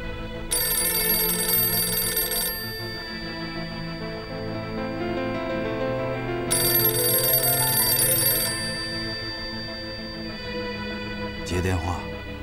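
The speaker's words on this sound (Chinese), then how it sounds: "接电话。" A telephone bell in a hotel room rings in two sharp, loud bursts separated by a pause, over low background music, with a brief voice heard near the end.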